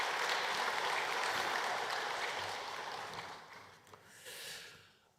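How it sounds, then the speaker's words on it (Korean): A church congregation applauds together, a broad wash of clapping that stays steady, then fades and trails off over a few seconds. "우리 하나님께 영광의 박수 한번 하겠습니다"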